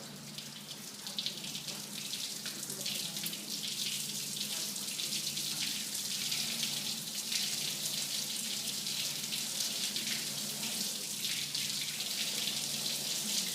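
White wine drains off in a steady stream during sterile filtration, a continuous hissing, splashing flow that holds an even level throughout with no voices.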